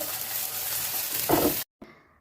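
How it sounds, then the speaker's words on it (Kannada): Okra fries in a pan with a steady close-up sizzle that swells briefly, cuts off abruptly, then resumes more faintly. "ನೋಡಿ, ಫ್ರೈ ಮಾಡ್ಕೊಳ್ತಾ ಇದ್ದೀನಿ."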